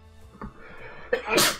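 A single sharp sneeze bursts out at the end after a brief indrawn breath, fairly close and clear.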